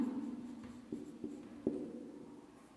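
Pen scratching on paper while working out a trigonometry problem, quiet continuous writing with a few sharper taps and strokes, close and alone with no talking.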